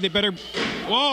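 A metal chair slams during a falls-count-anywhere pro wrestling match, a loud nearby crash in the middle of the clip, with excited commentary before and after it.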